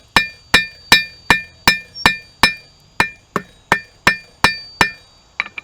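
A blacksmith hammers a hot nail taper on an anvil, about a dozen sharp, ringing metallic strikes at an even, steady rhythm, loud and close, ending with a few quicker lighter taps.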